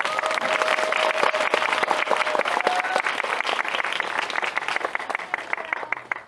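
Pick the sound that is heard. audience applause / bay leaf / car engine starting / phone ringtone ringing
audience applause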